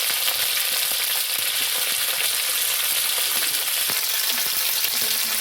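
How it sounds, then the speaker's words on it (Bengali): Broccoli fries in a pan for village-style noodles, filling the space with a loud, continuous, hissing sizzle that never lets up. "আমি নেব এখন ব্রোকলিটা ভেজে নেব"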